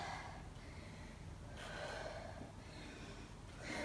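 A deep, slow inhale is drawn through the nose during a Bosu ball workout stretch, quiet and airy, with a few soft breathy surges.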